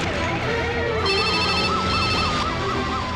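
An ambulance siren wails in a rising and falling pattern over a steady, dense background, holding loud and continuous throughout.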